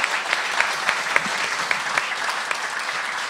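An audience at a live talk show bursts into steady applause, dense clapping sustained throughout at a close, even level.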